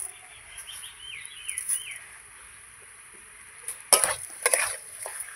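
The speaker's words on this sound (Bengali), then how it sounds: "ভালো করে সব মিশিয়ে নেব" Sugar is stirred into a sweet-sour mango pickle in a pan. Quiet background hiss and birdsong chirps come first, then a loud burst of spoon scraping and clatter in the final second and a half.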